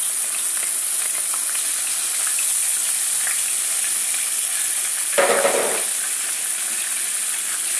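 Garlic paste frying in a pan of hot oil with asafoetida for rajma masala, a steady close sizzle with a sharper burst of spluttering as the paste hits, then settling back to an even hiss.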